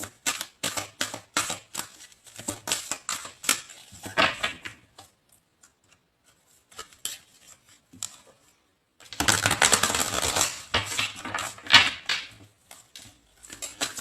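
A deck of tarot cards is shuffled by hand in quick bursts of riffling and tapping clicks, close up, broken by a few seconds of near silence and then a longer, denser run of shuffling.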